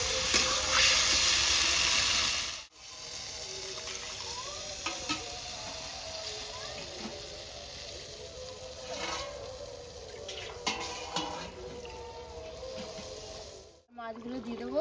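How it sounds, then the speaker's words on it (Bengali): Rohu fish curry simmering in a pan after water is poured in: a steady, fairly loud bubbling hiss that runs throughout, with a louder opening stretch and two brief dropouts. "তরকারি ফুটছে"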